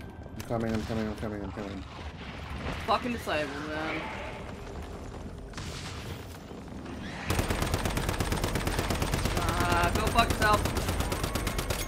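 Rapid video game gunfire, loud and sustained, fills the second half, following a stretch of talk and game noise with bursts of shots; people talk over parts of it.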